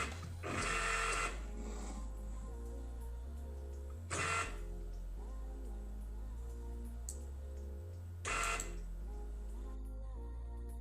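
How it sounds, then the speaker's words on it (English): An office printer runs an invoice at a mobile sales desk, giving three loud bursts of feed and print noise about four seconds apart over a steady low mechanical hum. "in the background you can hear the invoice printing."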